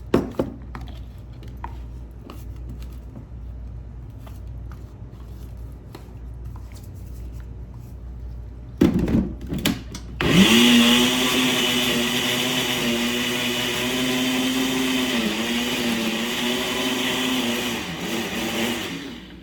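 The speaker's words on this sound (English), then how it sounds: "Guys, this is how fast it is." A blender roars on suddenly after a few clattering knocks and keeps chopping onion for BBQ sauce in a loud, steady whir, the motor pitch wobbling slightly as the contents churn.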